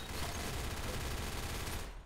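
Rapid, continuous gunfire from a low-recoil gun in a Roblox game, loud and dense, with the shots blurring into one steady roar for about two seconds before tapering off at the end. No voices.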